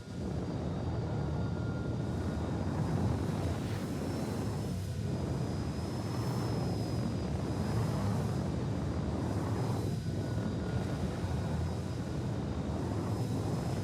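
Steady, loud roar of an airplane landing, a continuous broadband engine rumble with a faint whine, lasting throughout with no talk.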